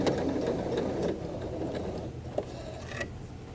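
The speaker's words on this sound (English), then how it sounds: "We are going to be stitching right off the edge. Back stitch." A sewing machine back stitches along a fabric edge on an inside curve, a close, continuous mechanical hum and rattle that eases slightly partway through, with a couple of small clicks.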